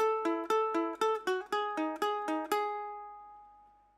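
A ukulele plays the final section of the Loki opening theme, about ten evenly spaced plucked notes alternating between two pitches. The last note rings out and decays slowly, close and clear.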